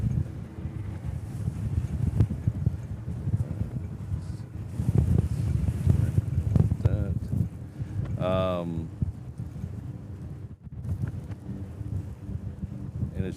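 Strong gusty wind blows across the microphone at Honolulu airport during a high wind advisory, producing heavy low rumbling buffeting, with a voice speaking at times and a brief tonal whine from an aircraft partway through.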